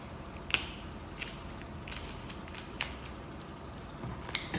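Sharp, crisp snips and crunches of a whole fish being cut, a handful of separate cuts spaced a second or so apart, close and fairly quiet over a soft background hiss.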